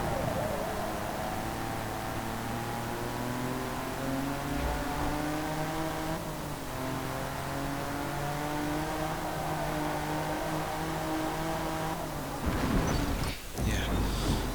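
A front-engined car racing in Forza Motorsport 2, its engine revving steadily at high pitch with shifting harmonic tones and a short burst of noise near the end, under light commentary.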